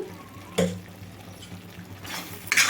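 Spices being stirred into a pan of tomato kurma, with a spoon scraping and knocking against the pan in a couple of short bursts over a soft kitchen background.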